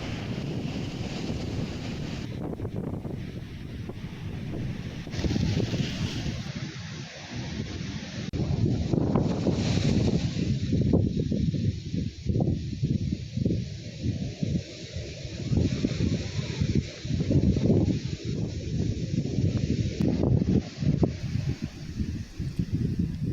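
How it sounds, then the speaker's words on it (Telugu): Rough sea waves pound the shore at Uppada near Kakinada during Cyclone Montha, a constant roar of surf mixed with heavy wind buffeting the microphone, swelling louder after the first few seconds and staying intense. "సముద్రం అల్లకల్లోలంగా మారింది"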